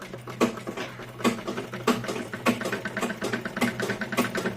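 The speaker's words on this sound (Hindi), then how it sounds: "एक पैर की सिलाई लगाऊंगी।" A sewing machine runs steadily, stitching one leg of a pleated palazzo trouser, with a low motor hum under a quick, regular clatter of the needle and a few stronger knocks. No one speaks.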